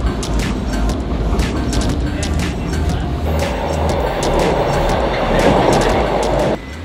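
Loud, continuous rumble of a Toronto subway train in motion with rhythmic clacking over the rails and a rising roar partway through.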